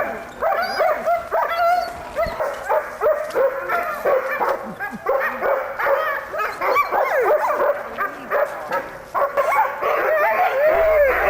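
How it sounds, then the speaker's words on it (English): Sled dogs bark, yip and whimper excitedly in a constant overlapping chorus while being hooked up to a wheeled sled in Alaska, loud and close throughout. "These are sled dogs, which is probably quite obvious."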